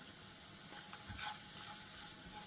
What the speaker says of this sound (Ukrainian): Все, обжарюємо.